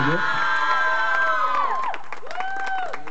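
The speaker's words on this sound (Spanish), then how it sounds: "Así que un aplauso por favor nuevamente para Jania Yatsiri Reyes" A crowd at a sports league event cheers and applauds loudly, with shouts and whoops rising over continuous clapping, including high children's voices, the noise easing slightly toward the end.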